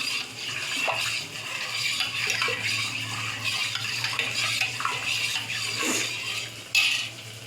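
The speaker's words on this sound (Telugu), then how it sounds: "వాటర్ కావాల్సినంత క్వాంటిటీగా వాటర్ వేసుకోండి." Water pours steadily into a pot with a continuous rushing splash, broken by occasional light clinks of metal.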